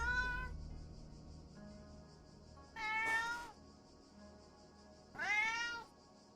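Cat named Amos meowing indoors, two clear rising-and-falling meows a couple of seconds apart, close and fairly loud over a quiet background.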